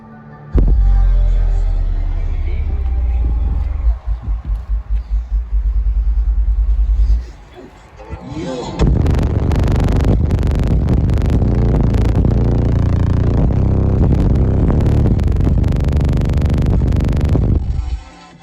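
Four 18-inch subwoofers run flat out on an 18 Hz tone at 6,000 watts inside a vehicle, a heavy rumbling drone that stutters in pulses, drops out briefly, then returns loud and sustained before cutting off.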